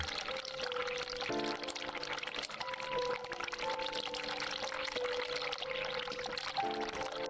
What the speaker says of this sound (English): What if I turn some cold water on